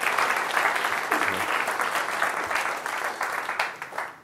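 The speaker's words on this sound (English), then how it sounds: "So let's give a round of applause for Fiat Chrysler." Sustained audience applause at an automotive cyber safety conference, dense steady clapping from a large crowd lasting throughout and tapering slightly at the end, with no talk over it.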